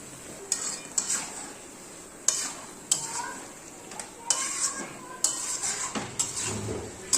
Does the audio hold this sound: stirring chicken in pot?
yes